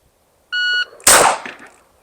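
A shot timer gives one sharp electronic beep, and moments later a single loud pistol shot cracks out during a live-fire drill at 7 yards, then fades quickly into quiet.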